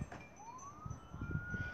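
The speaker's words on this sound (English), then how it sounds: "And now there's a siren going off." A siren sounds outdoors, its faint tone rising slowly and then holding steady in the distance as wind and low rumbling noise come and go nearby.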